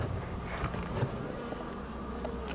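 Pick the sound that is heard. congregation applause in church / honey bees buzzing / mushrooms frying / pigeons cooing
honey bees buzzing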